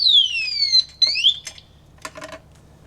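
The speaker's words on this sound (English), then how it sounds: "that loud annoying alarm lasts for 6 seconds" A motorcycle or bicycle anti-theft disc brake lock alarm shrieks with loud, piercing descending electronic whoops, then breaks into short choppy chirps and fades, close up with no talk.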